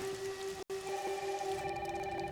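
Heavy rain in the video game Resident Evil Requiem, a steady hiss of downpour alongside sustained tonal hum, with a split-second dropout near the start.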